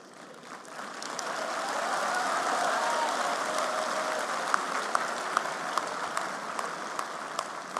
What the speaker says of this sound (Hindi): तो जितनी वहां समझ थी उतने हिसाब से तालियां बजी